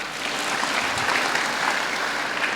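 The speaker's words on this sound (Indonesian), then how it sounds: "tepuk tangan untuk Mas Puji." An audience at a spiritual class session gives a participant a round of applause, a thick, steady burst of clapping that fills the short moment at fairly close, even loudness.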